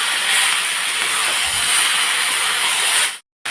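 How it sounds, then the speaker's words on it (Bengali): Ground spices and spice paste with cumin and coriander powder sizzle in a hot pan, a loud, continuous broadband hiss that runs steadily and then cuts off abruptly just before the end, with no voices. "মশলাগুলো দিয়ে এটা এবার কষবো।"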